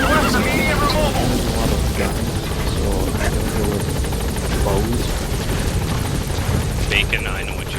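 Helicopter hovering over a landing zone in Metal Gear Solid V: a loud, steady rotor thump and turbine roar fills the whole stretch, with game dialogue and voices heard over it.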